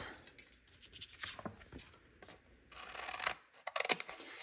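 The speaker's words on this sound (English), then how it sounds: "grab my scissors" Scissors cutting out a paper sticker sheet at close range, quiet irregular snips and crisp paper scratches in short bursts with small pauses between them.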